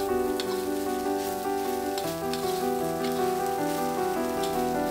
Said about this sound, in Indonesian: Tumis lagi sampai semua bahan rata.